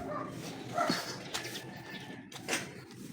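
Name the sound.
dog barking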